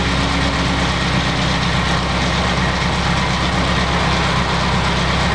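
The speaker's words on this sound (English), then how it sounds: "So I'm just gonna let it warm up again and I'll rev the engine to recreate the scenario that caused it last time." A Toyota Celica engine with a P0354 misfire fault idles while warming up, a steady, loud, low droning rumble with a faint uneven pulse and no talk.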